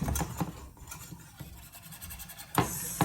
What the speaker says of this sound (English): So I have to heat it up and stir very, very well.